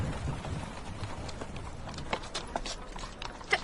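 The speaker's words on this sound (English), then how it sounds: "we saw that same four-wheeled cab and that same infirm horse" Faint, irregular hoof clip-clops of an infirm horse pulling a four-wheeled cab sound at a distance over a soft street-like background in a radio drama, with a slightly louder knock near the end.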